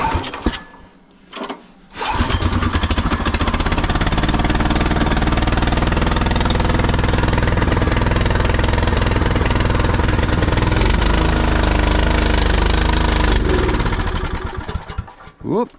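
A snow blower's small engine has its choke set, then cranks in a couple of short bursts before catching and running loudly and steadily for about ten seconds, with a rise and sputter near the end.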